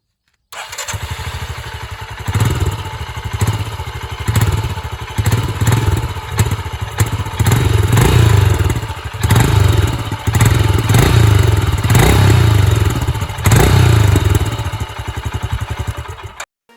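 A Royal Enfield Himalayan motorcycle engine runs loud and close, with a steady thumping idle and repeated revs that swell and fall about every couple of seconds.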